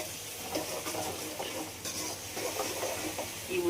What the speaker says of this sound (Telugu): ఉల్లిగడ్డ ఇవన్నీ మంచిగా ఫ్రై కావాలి